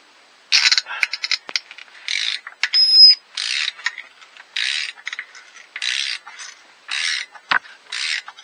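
A ratchet wrench with a long socket turns a spark plug out of a Renault Megane 4 RS Trophy, giving close, rhythmic bursts of rapid clicking separated by short pauses.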